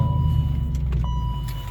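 A car drives through snow, heard from inside as a steady low road and engine rumble with a faint tone and a few light clicks, no voices.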